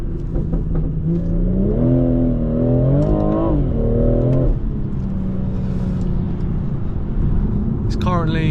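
A stage 1 tuned BMW M240i making about 400 horsepower in sport mode and manual second gear, its engine revving up in a rising, falling whine heard from inside the cabin, with a brief shift near the end.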